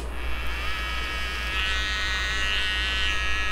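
The motor of a TPOB Troll hair trimmer runs with a steady, close, high-pitched electric buzz that holds a constant level for a few seconds, with no talking.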